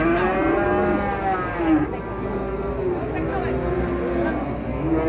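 Cattle at a morning livestock market in Wirosari, Java, low sustained moos rising and falling repeatedly over a steady background murmur of people and pens, close and loud throughout.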